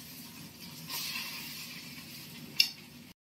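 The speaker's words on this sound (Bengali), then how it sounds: "সুন্দর করে ভাতটা ভাজা ভাজা হচ্ছে হালকা হালকা করে" Fried rice frying in a large wok (kadai), with a soft low sizzle and gentle scraping of stirring, quiet and close, ending in a brief sharp clink of the spatula.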